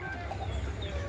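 A chicken clucks in a backyard coop, a few short close clucks over a low steady background hum.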